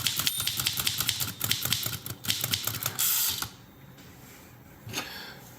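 Underwood Portable three-bank typewriter typed rapidly to the end of a line, a dense run of close mechanical key strikes and carriage clacks that stops as the line lock engages, followed by a single faint clack.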